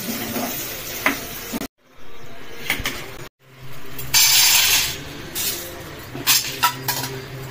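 Food frying in oil in a home kitchen pan with salt and chili powder added, a steady sizzle broken by spoon clinks and stirring scrapes, with brief dropouts.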